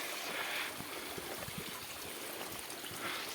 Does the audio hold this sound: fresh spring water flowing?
yes